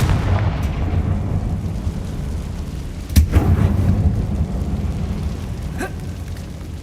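A Confringo fire spell explodes in Hogwarts Legacy inside an abandoned mine: one sharp blast lands midway, rising above a steady low rumbling ambience and fading back into it.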